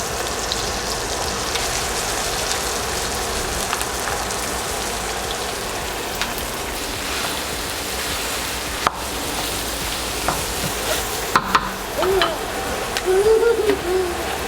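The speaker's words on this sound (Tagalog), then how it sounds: "ilagay na natin itong ground beef" Ground beef fries in a sauté pan for Filipino-style spaghetti, giving a steady, even hiss and crackle throughout, with a few sharp clinks and a brief stir toward the end.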